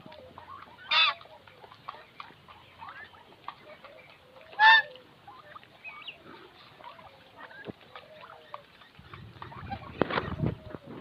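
Farm poultry including rare-coloured ducks, several loud close calls standing out from a busy murmur of softer clucks and quacks, with a low rumbling burst near the end.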